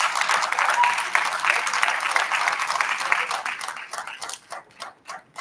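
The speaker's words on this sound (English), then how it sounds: "So a huge round of applause to all of you." Conference delegates at a Model United Nations valedictory give a loud, dense round of applause that thins into scattered individual claps as it fades toward the end.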